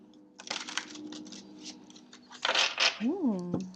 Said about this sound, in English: Let's just get a quick shuffle of the cards